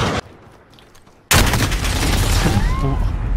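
Video game shooter gunfire: one sharp shot, a short lull, then a loud sustained burst of rapid automatic fire close up that keeps going to the end.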